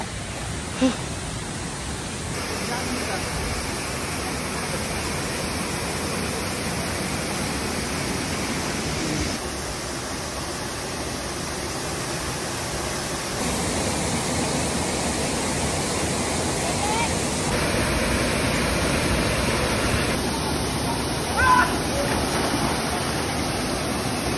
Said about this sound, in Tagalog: Malakas na yung tunog ng bagsak ng tubig.